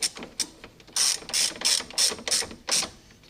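A hand ratchet clicks in short, rapid bursts while tightening the front shock bolts on a C5 Corvette, about eight quick strokes in close succession, crisp and nearby, with no voices.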